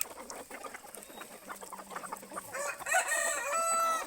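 Chickens cluck softly in the background, followed by a rooster crowing nearby, with scattered bird calls around them.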